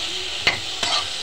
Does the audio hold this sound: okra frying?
yes